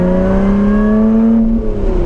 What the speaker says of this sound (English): it is a straight pipe exhaust and it makes this car feel alive